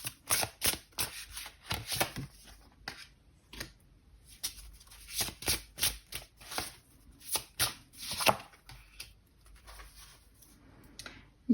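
A deck of tarot cards being shuffled close by, a run of quick papery riffles and slaps in irregular bursts, with brief pauses between handfuls and no talk.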